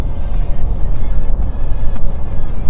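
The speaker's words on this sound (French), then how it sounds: "Ah, on teste le freinage. Ça freine très bien. Et ça repart très bien." A Renault R5 E-Tech electric car, a 150 hp Iconic 5, brakes and pulls away, heard from inside as a loud continuous road rumble with occasional ticking clicks.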